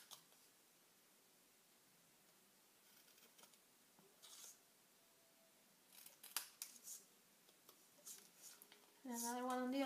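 Scissors snip into paper for a V-shaped cut, giving faint, close, crisp clips and rustles in a quiet room, scattered over several seconds.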